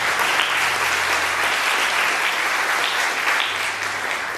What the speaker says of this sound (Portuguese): Para aplaudir o Senhor.